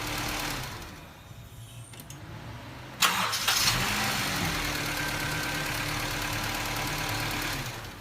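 A car that sat parked for a week is jump-started from a portable power bank, its engine cranking and catching into a steady, fairly close idle that continues to the end.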